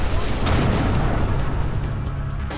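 Hostile fire in the Everspace 2 space-combat game lands as a steady barrage of rumbling blasts, with sharp cracks popping through now and then. A voice talks over the loud, continuous din.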